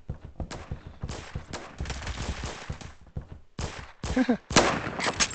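Gunfire in the first-person shooter game Phantom Forces, dense bursts of rapid automatic shots in quick clusters with short gaps, loud and close, with a brief word spoken over them.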